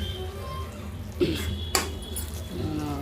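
A small spoon mixes chilli powder and spices into a broad bean curry in a pot, giving a couple of sharp metallic clinks and scrapes over a steady low background hum.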